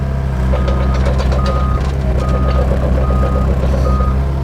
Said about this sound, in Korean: 주행을 했을 때 소리가 아주 부드러운 소리가 납니다